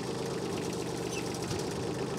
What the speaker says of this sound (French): Je vais actionner le relevage arrière.